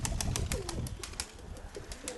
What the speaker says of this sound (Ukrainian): Я тут придивляюся до голубів.